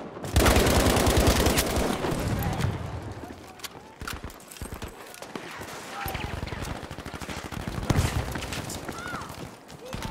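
Rapid bursts of automatic gunfire in Battlefield 5, loud and dense at first, then continuing as intermittent shots and volleys, with someone talking over the fighting.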